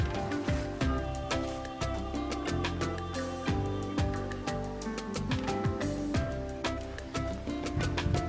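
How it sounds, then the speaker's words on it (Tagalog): Rain falling outdoors at a farm plot during planting, a steady dense patter of drops under a busy, continuous mix of other sound throughout. "Yan, may ulan mga kabangas."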